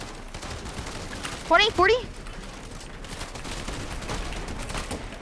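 Rapid automatic gunfire from a team spraying in a video game during a trios cup match, a dense, steady crackle of shots under brief spoken callouts from players.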